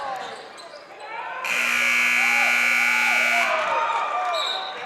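A long, loud electronic buzzer sounds for about two seconds to end the quarter at a girls' varsity high school basketball game, with ball bounces, sneaker squeaks and crowd noise in the gym and a commentator talking.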